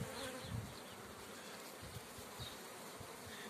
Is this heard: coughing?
no